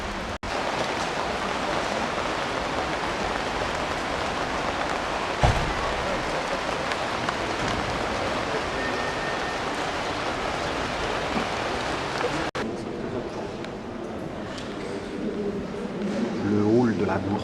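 Steady rain falling in Lyon on a rainy heritage-days outing, a continuous hiss of rainfall on surfaces with a few brief knocks, and people talking in the last few seconds.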